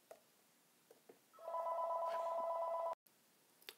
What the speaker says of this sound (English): my phone is ringing, and it was soliciting